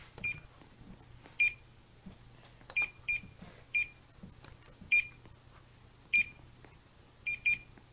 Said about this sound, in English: Now I hear the beep